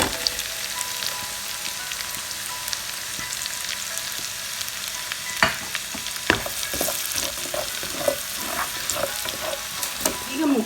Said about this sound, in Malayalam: ഇതിലേക്ക് വെളുത്തുള്ളിയും ഇഞ്ചിയും ചതച്ചത് ഫ്രൈ ചെയ്യാണ്